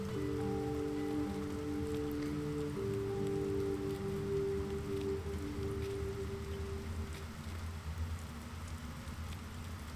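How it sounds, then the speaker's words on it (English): Steady rain pours in a video game's eerie outdoor scene, an even wash of falling drops that continues throughout under a low sustained tonal hum. "What are you doing outside in this weather? Not like it's any of your business. But I like the rain."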